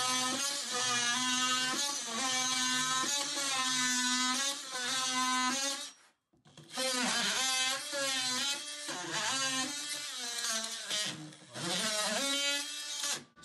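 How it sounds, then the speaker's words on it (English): A multi-tool saw cuts through a chipboard floor in two long, loud, continuous buzzing bursts separated by a brief pause around the middle. "I'm just going to then go through the rest of it just with the multi-tool"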